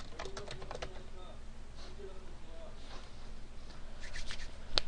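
Computer keyboard typing in short scattered bursts of key clicks, fairly close and moderate in level, with a steady low hum underneath and a sharper click near the end.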